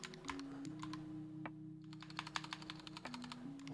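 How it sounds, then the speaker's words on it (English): Rapid keystrokes on a computer keyboard as a username and password are typed during a software installation, close and steady clicking over a faint low hum, with no talking. "Now we start the installation process by typing in a username and password."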